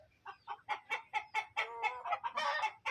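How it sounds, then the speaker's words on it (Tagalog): Rhode Island Red chickens clucking in a quick, irregular series of short calls, close and fairly clear, with one longer squawk near the end. "Medyo maingay na yung mga manok."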